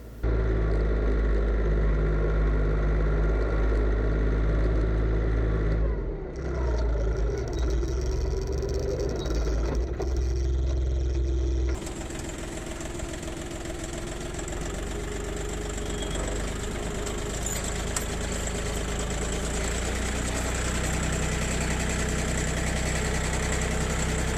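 Tractor engine working a garden plot during ploughing with a floating hitch: a steady, loud, low mechanical drone that continues without pause, its tone shifting roughly halfway through.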